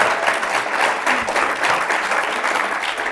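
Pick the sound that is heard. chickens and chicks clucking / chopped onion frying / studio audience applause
studio audience applause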